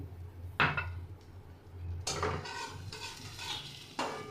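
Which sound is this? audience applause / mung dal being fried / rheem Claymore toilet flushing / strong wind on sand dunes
mung dal being fried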